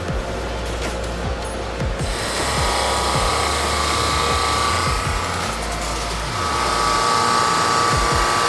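A JET drum sander works a wooden cutting board, giving a steady motor whir with a broad abrasive hiss that swells as the board feeds through. The sound is continuous and close, with no talking.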